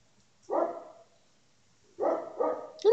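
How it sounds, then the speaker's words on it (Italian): A dog barks twice: one short burst, a pause, then a quick pair of barks, fairly close and loud with no talking. "Non puoi abbaiare, sto facendo un video"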